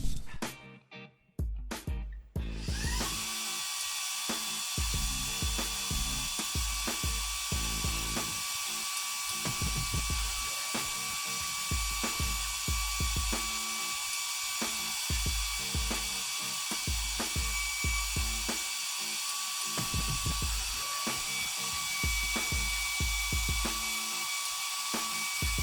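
A Kica version 1 electric air duster blows with a high, steady whine after a brief start-up, staying loud and constant, with faint rhythmic clicks or flutter running underneath.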